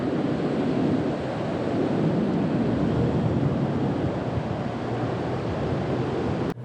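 Surf breaking along the rocky eastern shore of Fraser Island, a loud continuous roar of waves mixed with wind buffeting the microphone, ending in a sharp knock.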